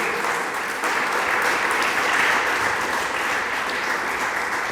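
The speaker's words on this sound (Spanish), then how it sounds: "Denle palmas al Señor" A church congregation applauds steadily, a dense, continuous wash of clapping hands that holds at a loud, even level throughout.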